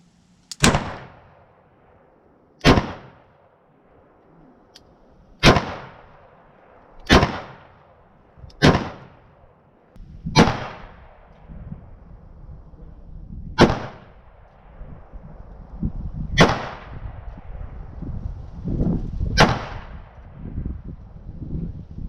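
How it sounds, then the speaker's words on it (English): A Charter Arms .38 Special revolver fires double action at an outdoor range: nine loud, sharp shots with short echoing tails, spaced a second or two apart, and no talk. "Well, I'm going to go ahead and fire again in double action only."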